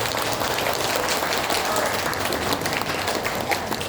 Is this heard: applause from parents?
yes